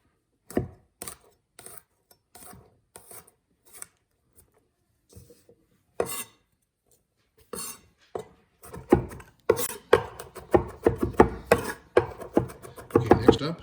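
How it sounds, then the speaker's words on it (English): Five garlic cloves are finely minced with a knife on a cutting board, starting with sparse single chops and building into rapid, close, rhythmic chopping. "Next up, 5 cloves of garlic, finely minced"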